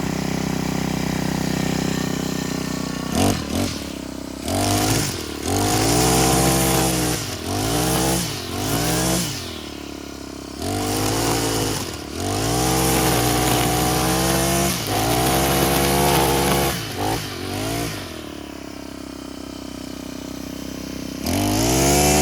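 A gas weedeater engine, a two-stroke trimmer that was filled with straight gas, runs loud and close at idle, then revs up repeatedly in several rising and falling bursts.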